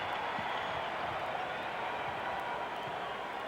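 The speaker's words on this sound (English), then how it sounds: "Well, the crowd responding for the Warriors." A basketball arena crowd roars steadily for the Warriors during a 1991 playoff game against the Spurs, a dense continuous wash of cheering and noise that holds at an even level throughout.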